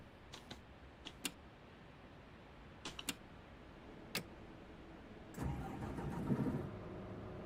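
A Scania Citywide Solo city bus engine in The Bus Simulator game cranks and catches after a few scattered sharp clicks, then settles into a low, steady idling rumble.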